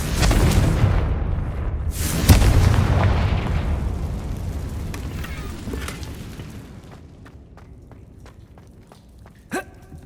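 A Confringo fire spell in Hogwarts Legacy detonates with a deep booming explosion, followed by a long rumbling decay that fades to quieter ambience, punctuated by a few light footsteps and a final sharp pop near the end.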